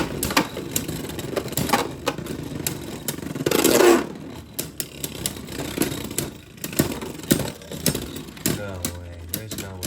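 Beyblade tops Lord Spriggan and Rage Longinus spin and battle in a stadium, giving sharp clacking collisions and scraping whirs. A loud clash comes early and a settling rattle near the end, with a voice speaking intermittently.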